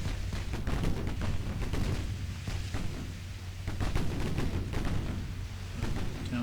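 Naval guns firing at a light cruiser in Ultimate Admiral Dreadnoughts, a rapid run of booming shots and rumbling impacts over a constant low battle drone, dense and continuous throughout.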